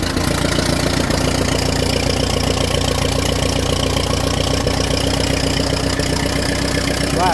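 A 1951 Ferguson TED20 tractor engine idles steadily after a cold start, its even, slightly knocking mechanical beat loud and close throughout with no pauses.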